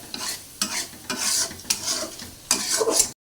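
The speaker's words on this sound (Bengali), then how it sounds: "দেখো মশলা কিন্তু ভাজা হয়ে গেছে, তেল উপরে উঠে আসছে।" Spices sizzle and crackle in hot mustard oil while a spoon stirs in bursts, with scraping strokes against the pan, close and fairly loud.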